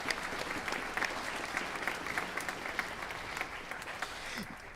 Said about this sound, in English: So how about a round of applause for our outstanding music staff tonight?